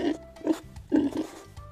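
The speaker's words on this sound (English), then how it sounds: "Pig." A pig grunts several short, nasal oinks in a quick series, close and clear.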